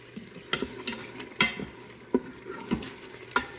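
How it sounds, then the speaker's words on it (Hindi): Spoon stirring and scraping a dish frying in a little desi ghee in a home kitchen, producing several sharp, irregular clinks and scrapes over a low, steady sizzle, close and moderately loud, with no talking. "चलो अब ये इसको हम भूनेंगे"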